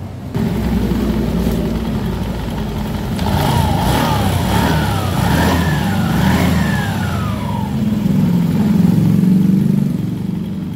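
A Honda Beat ESP scooter with a noisy CVT idles loudly up close, then revs in several rising and falling pulls before settling back to a steady run.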